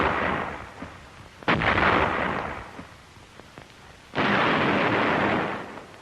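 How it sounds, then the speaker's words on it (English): Wartime artillery barrage shelling, two heavy rolling booms each followed by a long rumbling decay, with faint distant thuds and pops in between, loud and reverberant with no voices. "the infantry watched the smoke and bursts of the barrage"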